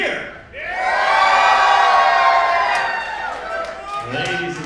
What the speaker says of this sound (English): let me hear how you cheer